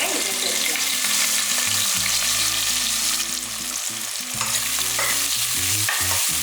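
Sliced onions fry loudly with whole spices such as cinnamon for mushroom biryani, a steady sizzle broken by repeated scraping stirs of the pan, close and continuous with no voices.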